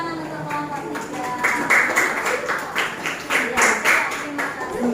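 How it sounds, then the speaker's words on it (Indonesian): Classroom students clapping for a group after its poster presentation, a dense patter of many hands growing stronger midway, with voices murmuring underneath. "Tepuk tangan untuk kelompok 3."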